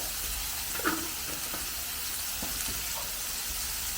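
Sliced onions sautéing with salt in a pan for mini masala dosa, a soft continuous sizzle with a few light stirring scrapes and taps, close and fairly quiet.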